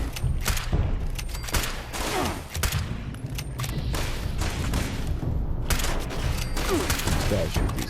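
Gunfire at enemies during Collectron farming at a Fallout 76 workshop, a dense run of repeated shots and thuds throughout, fairly loud, with a voice talking over parts of it.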